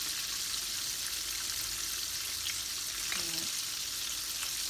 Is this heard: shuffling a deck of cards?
no